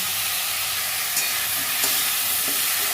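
Cut boiled potatoes frying in a pan, a steady close sizzling hiss with a few faint stirring clicks.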